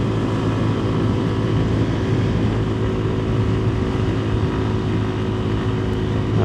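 A Buddy 125cc scooter on a commute to work carries a steady, loud engine hum with wind rush that stays constant from start to finish, close to the rider.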